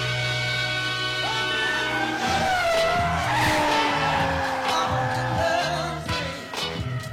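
A drifting car slides with a long, continuous tyre squeal over a roaring engine, loud and close, holding for several seconds before easing off.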